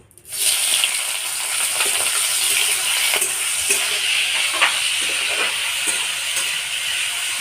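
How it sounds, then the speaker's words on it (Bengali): Salted potatoes frying in hot white oil in a kadai hiss in a bright, steady sizzle that starts abruptly and holds close and even, with small scraping taps from stirring, no speech. "লবণ মাখানো আলুটা এবার একটু ভেজে নেব"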